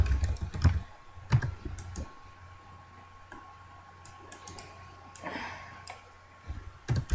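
Text being typed on a computer keyboard in a quiet room, with irregular close keystroke clicks in short bursts and pauses.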